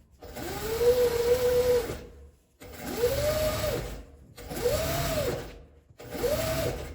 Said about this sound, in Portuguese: Vou costurar direito do zíper com direito do tecido.